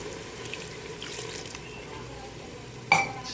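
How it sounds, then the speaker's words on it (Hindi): Half a cup of water is poured into a pot of spiced beef qema, a soft, continuous trickle under light kitchen noise, ending with a single sharp metallic clink. "इसमें हम आधा कप पानी शामिल कर देंगे।"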